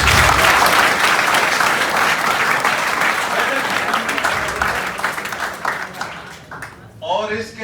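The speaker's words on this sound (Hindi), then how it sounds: "जोरदार ताली बजाओ हमारे" A crowd at a traffic-safety talk about helmets gives loud, dense applause that stays strong for several seconds, then tapers off as a voice begins speaking at the close.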